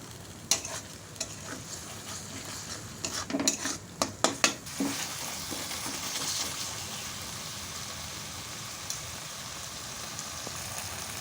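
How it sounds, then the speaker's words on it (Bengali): Spice masala frying in a pan while stirred until the oil separates, a close steady sizzle with a burst of sharp utensil scrapes and clanks early on, then a continuous fry. "মশলাটাকে ভালো করে কষাতে থাকবো যতক্ষণ না সমস্ত মশলাগুলো মিশে আর একবার মশলা থেকে তেল ছেড়ে দিচ্ছি।"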